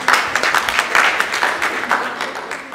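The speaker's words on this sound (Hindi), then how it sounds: "जोरदार तालियों से" A crowd at a book launch event applauds to welcome a speaker, a steady patter of many hands clapping at moderate distance for a few seconds.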